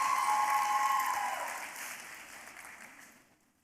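Applause for a dancer at her Arangetram, a round of clapping that fades steadily from moderate to quiet, with a sustained tone sounding over it at the start.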